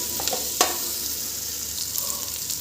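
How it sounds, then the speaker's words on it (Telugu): A spoonful of ginger garlic paste fries in a pan for amaranth leaf rice, hissing steadily up close, with a sharp stir near the start and lighter scrapes later. "అల్లం ఎల్లిగడ్డ పేస్ట్ 1 స్పూన్ వేసాను. మంచిగా వేగాలి ఇది."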